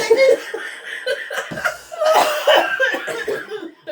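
A person coughs close by several times in rough bursts, mixed with snickering laughter.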